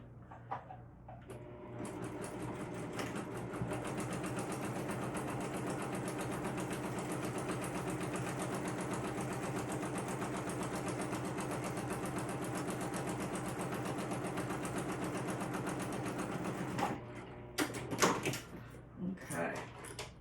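A sewing machine stitches a seam on a crossbody bag, running as a steady mechanical whir for about fifteen seconds before stopping, followed by a few brief clicks and handling knocks.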